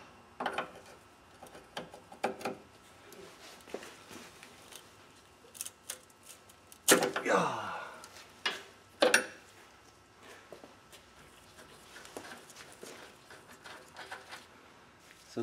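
Wrenches work a fuel line nut loose from the fuel filter on a 2004 Chevrolet Tahoe 5.3 flex-fuel, a 13/16 wrench holding the filter and a 5/8 flare wrench on the fitting: scattered close metallic clicks and scrapes, with one louder rasping burst midway.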